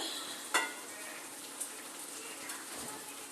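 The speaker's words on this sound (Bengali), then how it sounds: "ডিমটা দেওয়ার পরে আমি পাঁচ থেকে সাত মিনিট একটু এই যেটুকু ঝোল আছে এর সঙ্গে ফুটিয়ে নেব" Fish roe curry with taro stolons simmering in a pan, a steady soft bubbling and sizzle with a couple of faint clinks, close and even throughout.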